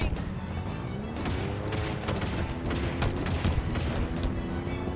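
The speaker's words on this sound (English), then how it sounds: "Shotgun firing." Shotgun fire in the Halo Infinite video game, repeated sharp blasts over a constant rumbling battle backdrop and a droning engine tone.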